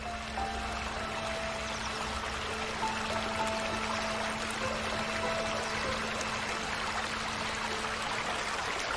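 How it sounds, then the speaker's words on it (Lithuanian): Rain-swollen water pours and streams steadily through a broken beaver dam in the Scottish wilds, a continuous rushing flow with a faint trickle, no voices. "Vanduo pralaužė kruopščiai suręstą užtvanką, kurią bebras pastatė savo jaunai šeimai."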